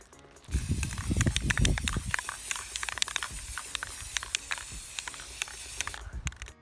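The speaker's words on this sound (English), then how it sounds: "Not the most ideal weather for spray painting right now" Hissing bursts from a spray paint can, with sharp clicks and rattles in between, fairly close and loud.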